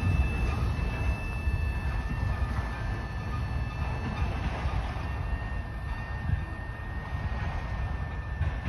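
A freight train led by an NS SD60E, a BNSF ES44AC and an NS ET44AC locomotive rumbles eastbound through Greenfield, Massachusetts, a steady continuous roar of engines and rolling cars at moderate distance with faint thin tonal squeals above.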